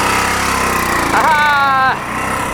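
A military Harley Davidson dirt bike engine pulls away in first gear, its rising, whining revs climbing loud and close over a steady idling rumble before easing back down.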